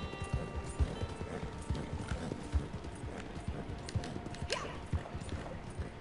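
Steady clip-clop of horse hooves at a trotting rhythm in the video game Red Dead Online, fairly close, with a faint murmur and scattered small sounds behind it.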